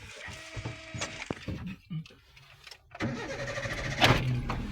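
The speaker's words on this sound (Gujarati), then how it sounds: "ગાડી સ્ટાર્ટ થાય" A 2012 Hyundai i10 hatchback, a second-hand car, cranks and starts up, with clicks and rattling handling noises before the engine catches and runs on, close by and with no talk.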